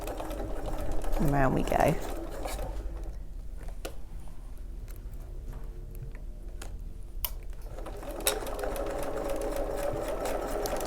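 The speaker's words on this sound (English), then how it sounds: "so now I'm going to sew around the edge" A sewing machine stitches around the edge of a fabric piece in short, quiet bursts of ticking mechanical whirring, and a person speaks briefly over the motor.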